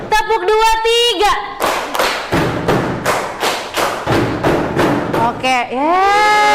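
A classroom of children claps in a rhythmic pattern, a steady series of about a dozen loud, close hand claps between a teacher's spoken cues at start and end.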